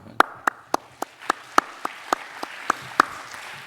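A few slow, spaced claps from an audience ring out sharply in a quiet lecture room, about a dozen hand claps at an even, unhurried pace.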